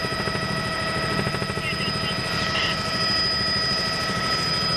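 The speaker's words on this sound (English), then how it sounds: "Kanji, right now, it's kind of hard to tell with everything that's going on from this distance in Chopper 5, but we did see several officers move in." A news helicopter hovers overhead, its steady rotor chop loud and pulsing throughout, with a faint voice nearby.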